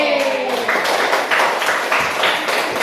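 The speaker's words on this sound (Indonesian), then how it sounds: "tepuk tangan untuk kelompok D" A classroom of students claps together for a presenting group: dense, steady clapping close by for about three seconds, with scattered voices mixed in.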